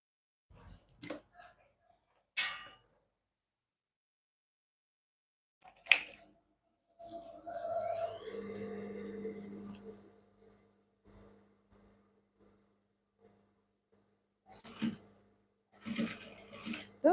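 A sewing machine stitches fabric for a pair of shorts, running in one steady burst of a few seconds between scattered taps and clicks of handling the cloth and presser foot.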